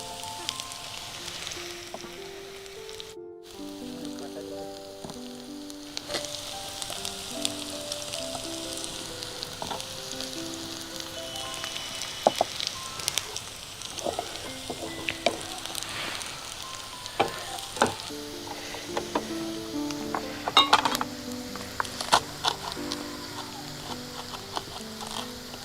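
Green chillies fry in a pan of chalta chicken, giving a steady, close sizzle with frequent scraping and stirring clatter, while someone speaks intermittently over the cooking.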